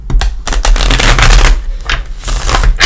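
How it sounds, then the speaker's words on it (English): A Crystal Vision tarot card deck being shuffled up close, loud rapid riffling bursts of cards snapping and fluttering in several quick passes. "I'm just going to give the crystal vision a shuffle."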